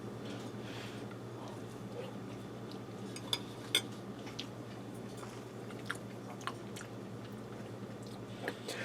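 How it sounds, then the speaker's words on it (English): Close, quiet chewing of a bite of beef potato au gratin with cheese from a one-pot meal, soft wet mouth sounds with occasional small clicks over a low steady room hum. "Get a little beef and cheese in that bite."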